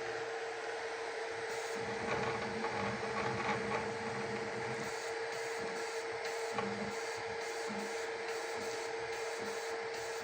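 Flsun Super Racer 3D printer at work, a steady high motor whine with shifting stepper buzzes and soft mechanical rubbing, continuous and fairly quiet, with no talk.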